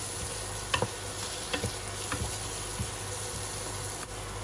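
Carrot, onion and garlic sautéing in a pan for mushroom soup, a steady soft sizzle broken by a few sharp spoon scrapes and stirring clicks, close and moderately quiet with no voices.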